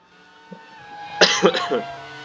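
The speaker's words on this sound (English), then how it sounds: "Sorry about the coughing again" A person coughs several times in a quick close burst after a faint earlier cough, over a quiet racing-game engine drone during a Formula One game commentary.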